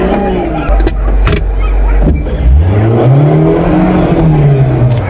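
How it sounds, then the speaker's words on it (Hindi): A trainer drives a car up a steep home driveway slope, the engine close and loud as it strains and revs with a rising pitch, with people talking in the background. "तो आप देख सकते हैं कि ट्रेनर ने पल भर में गाड़ी को चढ़ा दिए"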